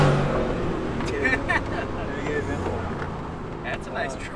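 A Ford F-150 with the 5.0 engine accelerates, heard from inside the cab with a window partly down; the engine drones and rises under wind rush while people talk over it.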